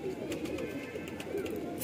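A group of nine magpie pigeons offered for sale coo in low, rolling repeated phrases nearby, with some faint background voice or clatter mixed underneath.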